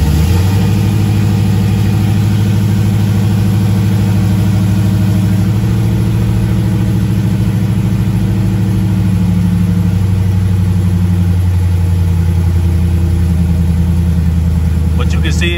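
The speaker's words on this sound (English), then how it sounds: "when I start it up, just like I said, it's a cold start" The LS-swapped 1986 Monte Carlo SS on a cold start, idling loudly with a deep, steady rumble that stays close and continuous, its tone shifting slightly partway through, while someone talks over it.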